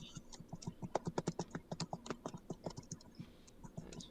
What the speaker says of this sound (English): It's very loud typing.